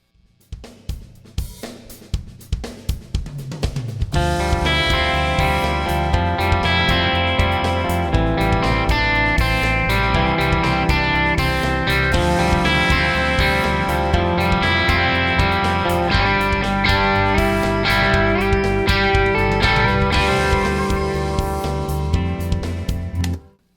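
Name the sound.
electric guitar recorded with a Royer R-122V microphone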